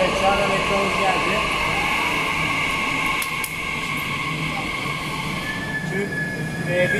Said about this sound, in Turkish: şu anda metromuz geldi.